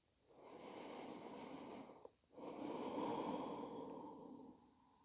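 Two long, slow breaths during a yoga breathing exercise, each a soft, airy rush close to the microphone, with a brief pause between them and a gentle fade after.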